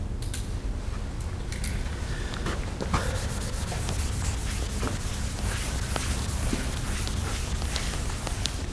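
Continuous rubbing and scraping of a board being wiped clean in a geochemistry classroom, steady and close for several seconds with faint creaks and knocks, no talking.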